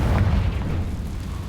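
Confringo fire spell blast from Hogwarts Legacy, a heavy booming explosion with a thick low rumble that hits at once and rolls on steadily for over a second.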